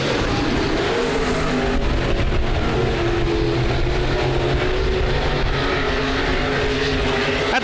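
B-Mod race cars roaring around a dirt speedway during a night heat race, engines droning loudly and continuously with a dense, steady mechanical rumble and no break.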